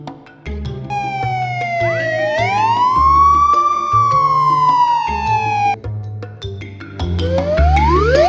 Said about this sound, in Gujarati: આપણે તો આપણું કર્યું લઈને સાયરન વગાડીને મજા લઉં.